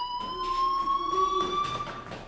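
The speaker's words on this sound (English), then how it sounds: "do you hear that fire alarm?" A fire alarm rings inside the video game Life Is Strange, a steady electronic tone with bright harmonics that holds loud and continuous, unbroken and with no voices over it.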